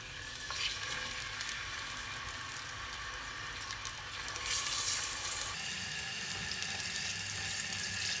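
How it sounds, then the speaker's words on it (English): Washed salted beef frying in preheated oil, a loud, dense, continuous sizzle close by that rises in intensity partway through, with no talking. "While the oil is on fire and preheating, I will add my washed"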